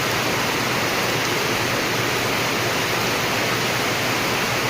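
Floodwater flows after heavy rain, a dense, unbroken rushing roar close by, loud and steady throughout with no other sounds standing out.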